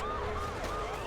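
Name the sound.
police siren in video game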